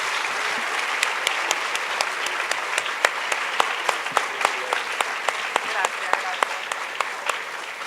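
An audience at a literary talk applauds an Argentine writer, a sustained bed of clapping with sharp individual claps standing out close by, and a voice speaking over it.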